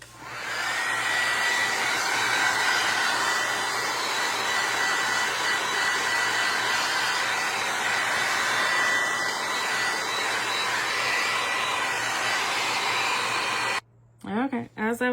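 A hair dryer blows steadily and loudly for about fourteen seconds, drying decoupage medium on a tray, its constant airy whine holding even before cutting off abruptly near the end.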